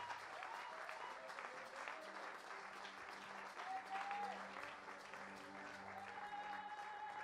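A church congregation at a French-language thanksgiving service claps together in sustained, even applause, heard somewhat distant and soft, with a faint voice and a held musical tone underneath.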